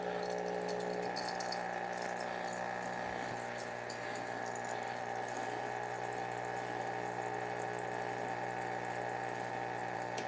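Hot water is poured into a large Aeropress coffee maker for an espresso-strength brew, making a steady trickling fill with a faint rattle, constant and close for about ten seconds under a low background hum.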